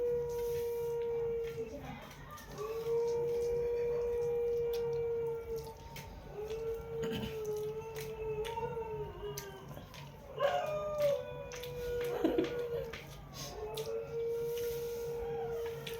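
A dog howls in long, wavering drawn-out cries with brief breaks between them, fairly close and steady throughout, with a few shorter yelps near the end.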